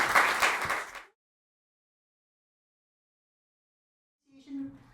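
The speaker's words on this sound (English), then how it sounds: "give them a warm round of applause." Brief burst of audience applause at a Toastmasters job-market workshop in Copenhagen, loud for about a second then cutting to silence, followed by a faint murmur near the end.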